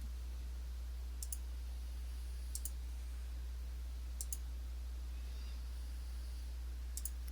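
A computer mouse clicks in Weka software, sparse double clicks spaced a second or more apart over a steady low hum in a quiet room.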